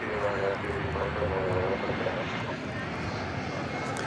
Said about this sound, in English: There you see Spirit Flight 215 going to Phoenix, Arizona, in Airbus A320neo.